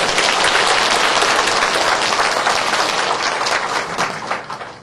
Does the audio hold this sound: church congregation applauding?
yes